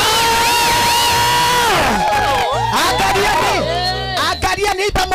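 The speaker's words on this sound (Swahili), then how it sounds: "Pigia Yesu makofi na shangwe." A church crusade crowd at an outdoor mega gathering in Kitengela claps and cheers for Jesus, loud sustained shouting and whooping voices filling the air, with dense overlapping cries and bursts of clapping toward the end.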